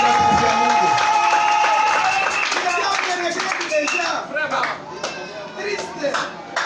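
Church congregation clapping in praise of God, loud rhythmic applause with a few shouts that thins out toward the end as voices and music take over.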